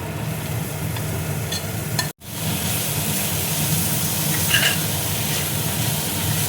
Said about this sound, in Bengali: ছানাটা দেখো দিয়ে দিচ্ছি।